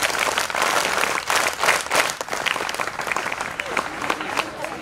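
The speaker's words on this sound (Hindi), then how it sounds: "पहले जो ताली बजाया था वो बजाइए।" Applause from an audience practising a single unified NCC clap at Officers Career Academy, Wagholi, Pune, heard instead as a long, loud, ragged burst of many hands clapping.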